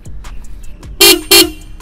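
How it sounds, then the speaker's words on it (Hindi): Two short, loud blasts from the horn of a Royal Enfield Hunter 350 or Honda CB350 motorcycle sound up close, each about a fifth of a second, with no talk. "हाइनेस के हॉर्न की आवाज़ थोड़ी सी ज़्यादा तेज़ है कंपेयर टू हंटर।"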